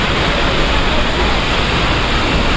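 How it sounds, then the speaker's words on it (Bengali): Heavy rain pours down outdoors where water is collecting and vehicles are struggling, forming a dense, loud, unbroken roar of hiss with no gaps. "প্রচুর বৃষ্টি, প্রচুর প্রচুর।"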